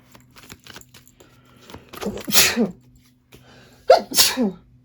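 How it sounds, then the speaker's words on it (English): Two sneezes close by, each with a sharp intake and burst, after a few seconds of quiet rustling and faint handling sounds. "I rarely sneeze during readings"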